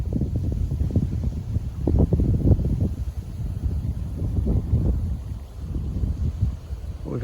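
Strong wind gusting at a lake bay while fishing, a continuous heavy buffeting roar against the microphone with low rumbling surges and no talk.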